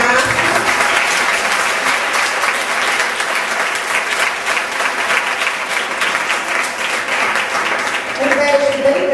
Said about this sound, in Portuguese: esses aplausos é mais para vocês do que para mim